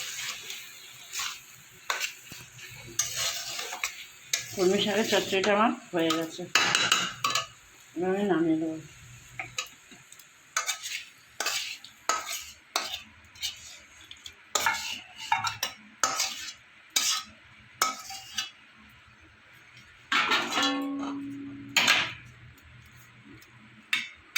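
Water spinach (kolmi shak) is stirred and mixed in a pan, with intermittent close scrapes, clinks and taps of a spatula against metal over a faint sizzle, with a few brief vocal sounds in between.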